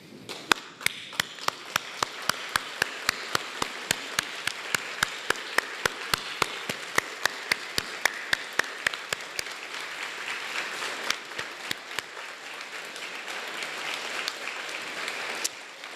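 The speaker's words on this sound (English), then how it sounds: "stand and applaud your loved ones" Graduates at a UHI Inverness graduation ceremony applaud their loved ones, a broad wash of clapping with sharp, evenly spaced loud claps standing out near the front, continuing steadily and thinning slightly toward the end.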